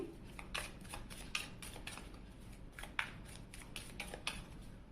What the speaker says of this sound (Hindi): तो चलिए कार्ड को करते हैं शफल 2 more time